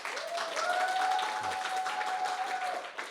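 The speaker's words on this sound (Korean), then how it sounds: "큰 박수 부탁드리겠습니다." Sustained applause from an audience at a regional revitalization project presentation, steady dense clapping filling the room for about three seconds before thinning out at the end, with a faint voice briefly underneath.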